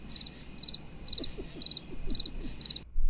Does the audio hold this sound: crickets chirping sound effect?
yes